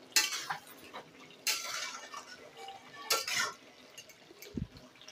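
A spoon or spatula stirs jeera chicken cooked without water in a pan, scraping the bottom in three distinct bursts of metallic scraping and clinking, with a soft thud near the end and quiet cooking noise between.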